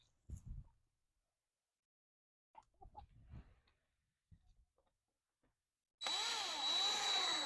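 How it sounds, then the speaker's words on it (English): A few dull knocks and handling noises, then a power drill whirs loudly and steadily for the last second and a half, its pitch rising and falling as it drives a screw installing an automated chicken coop door. "I'm going to start it with a drill and finish up with a screwdriver"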